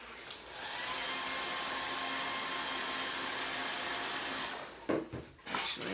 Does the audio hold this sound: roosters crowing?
no